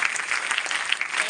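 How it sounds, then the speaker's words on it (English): Audience applause at a school event, a dense, steady wash of many hands clapping together throughout, fairly loud and close with no voices standing out. "Let's do an Agastya clap for everybody."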